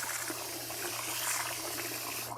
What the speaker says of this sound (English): Always wash the rice with cold water.